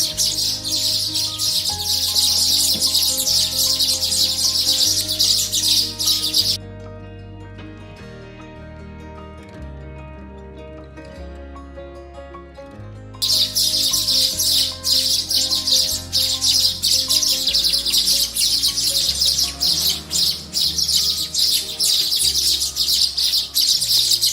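Rescued weaver bird chicks chirping, a dense, continuous high-pitched chorus of cheeps over a sustained musical backing that drops out for several seconds midway before the loud chirping resumes.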